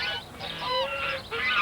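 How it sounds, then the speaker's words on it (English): A Chinese goose at a farm gives a few nasal, brassy honks in quick succession, close and fairly clear against a quiet background. "Lovejoy's a Chinese goose."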